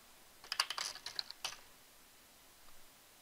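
Computer keyboard keys are tapped in a quick, uneven burst of clicks for about a second, then quiet, faint room hiss with one soft click later.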